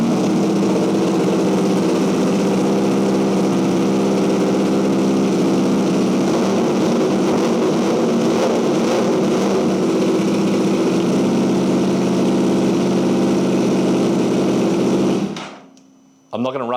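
A crash-damaged 2023 Yamaha R1 superbike engine roars loudly and steadily through a near-straight pipe indoors for about fifteen seconds, then cuts off abruptly into near silence.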